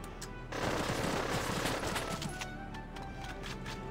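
Rapid automatic gunfire in the Valkyria Chronicles battle game, a dense burst of rattling shots starting abruptly and continuing steadily, close and loud, with no talking over it.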